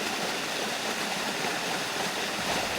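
Water gushes from the Hamley Sewage Works outlet into a river in late October, a constant broadband rushing like a small weir, steady and fairly near with no pauses.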